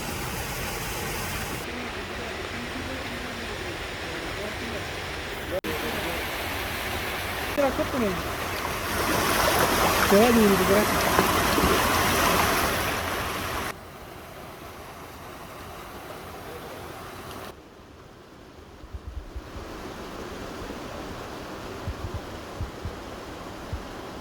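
Water flowing into trout farm ponds in Swat, Pakistan, a steady rushing wash that shifts in level as the recording moves, with someone talking over it at times.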